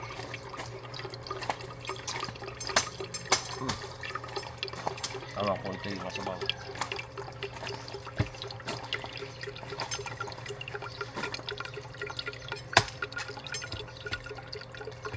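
Water dripping slowly, sparse scattered drops at uneven intervals, under people talking nearby.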